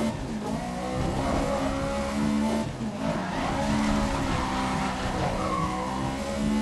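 Racing car in the video game GRID sliding on damp ground: a steady, loud engine drone with tire squeal and skidding hiss as the car drifts, the engine note shifting while the slide goes on.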